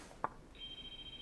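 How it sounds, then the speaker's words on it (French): A telephone rings in a quiet room, a single short electronic tone held steadily after a brief click, faint against low background hiss. "C'est mon téléphone?"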